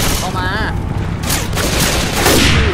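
Rapid gunfire rattles in the zombie shooter Left 4 Dead 2, with repeated sharp shots over a dense, loud game mix as voices shout at the same time.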